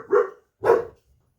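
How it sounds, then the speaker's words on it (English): A dog barks twice nearby, two separate loud woofs about half a second apart, followed by quiet. "Excuse the dog barking."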